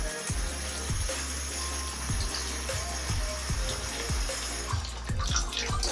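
A faucet runs steadily into a basin of water at a bedside during nurse aide skills practice, a continuous close splashing flow with a soft rhythmic thudding underneath, no voices.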